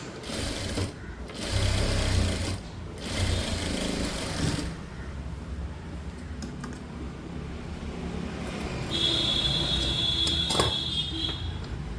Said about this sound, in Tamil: இங்கே இந்த மார்க்கில் அப்படியே தச்சு முடிச்சுட்டு இங்கே படிமான தையல் போட்டுக்கணும்.